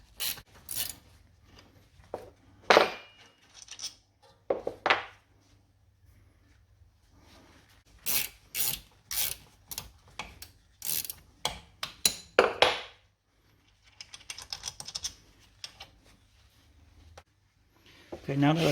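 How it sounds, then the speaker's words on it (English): A wrench works the brake caliper slider pins on a Mercedes-Benz ML W166 rear brake. Close, crisp ratcheting clicks come in short, irregular bursts, separated by quiet pauses. "You need a 13mm and a 17mm to undo the slider pin."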